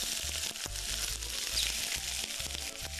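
Vegetables sizzle while grilling in a pan, a continuous close hiss with faint tapping underneath and no talk.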